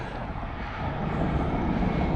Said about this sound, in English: Private jet.